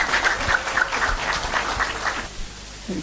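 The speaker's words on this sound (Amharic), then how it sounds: "በደንብ አጨብጭቡ እንጂ እንዴት ነው?" An audience claps for panel guests at a women's ministry gathering, scattered, uneven applause that is moderately loud and then thins out and fades near the end, with no speech.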